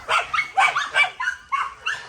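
A dog barks and yips in a quick run of short, sharp calls, close by and moderately loud.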